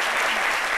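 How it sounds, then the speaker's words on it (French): Audience applause fills a French comedy-style talk show set, dense and steady clapping from a crowd, close and continuous throughout the short moment. "Je pensais que vous alliez applaudir pendant que je suis en train de faire cette longue liste"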